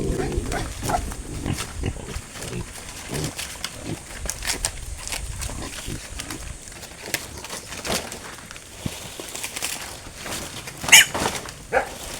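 Pigs and piglets on a farm feed on banana leaves, with dense rustling and crunching, snorts and grunts throughout, plus a few sharper squeals near the end.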